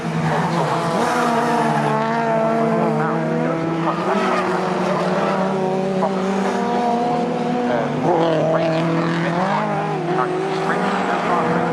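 Racing Hondas, including a DC5 Integra, in a championship race at Cadwell Park, engines wailing loud and continuous as they rev and shift, with a commentator talking over them.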